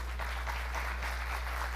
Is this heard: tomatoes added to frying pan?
no